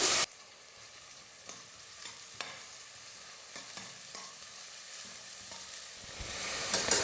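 Chopped onion and curry leaves fry in a pan for a kulambu, giving a steady close sizzle broken by scraping stir strokes, which grows louder and brighter toward the end.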